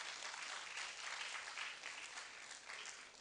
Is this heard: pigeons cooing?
no